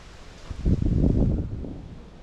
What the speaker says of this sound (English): you can definitely hear the wind going through the pines